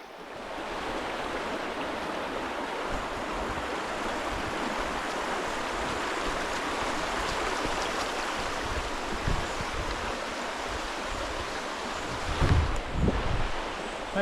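Steady broadband rush of river water flowing around someone wading across an English river, continuous and close, with a few brief splashes and heavier sloshes near the end.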